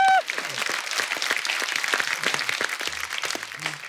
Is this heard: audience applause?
yes